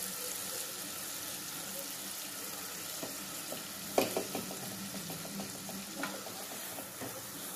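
A paste of boiled tomatoes and chillies cooks in oil in a pan with a continuous, moderate sizzle. Occasional soft knocks and clicks of stirring break in, with a sharper tap partway through.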